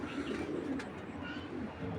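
Aluminium silver pigeons, a breeding pair, cooing in a steady low murmur close by, with faint flock sounds around them.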